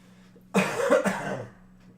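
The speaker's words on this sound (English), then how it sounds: "if the voice comes and goes and I do a little coughing" A short burst of coughing from a person who is ill, two or three harsh coughs close to the microphone, with quiet room tone before and after.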